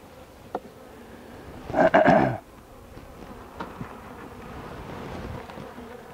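Honeybees buzz softly from an opened hive during a frame inspection, with a low steady drone throughout and one louder close burst of buzzing partway through.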